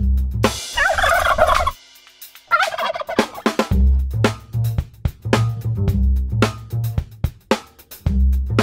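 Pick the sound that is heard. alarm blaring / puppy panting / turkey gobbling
turkey gobbling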